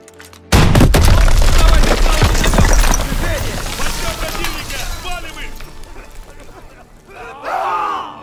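Grenade launcher blasting through a wall in the video game Call of Duty: WWII, a sudden loud boom followed by rumbling debris and scattered gunfire, with voices shouting over it.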